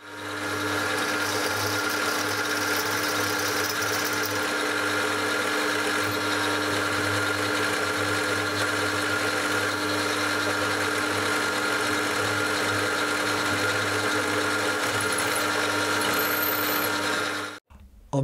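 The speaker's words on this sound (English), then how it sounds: "I'm just centre drilling now" Steady high-pitched whine of a machine centre drilling into metal, constant and close, running without pause before cutting off abruptly near the end.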